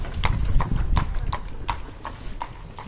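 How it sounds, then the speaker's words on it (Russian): Horse hooves of a carriage on a Sarajevo street clip-clop in a steady, even rhythm, close and clear, each strike crisp against low background rumble. "вот такое, лошадь с каретой."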